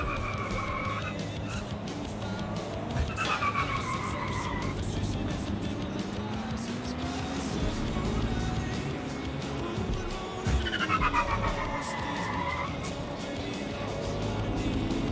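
A fast car races through the streets in the video game Watch Dogs: Legion, its engine droning steadily while tyres screech in long skids and a siren wails intermittently, with someone talking over the action.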